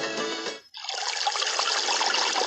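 Water runs and gushes continuously, briefly cutting out before resuming as a bright, hissing splash that carries on steadily and fairly close.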